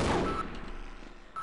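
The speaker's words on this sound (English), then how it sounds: "there's a freaking turret over there" An automated turret in the first-person shooter Half-Life lets off a loud burst of rapid fire that tails into echoing rattles, with a second burst starting just before the end.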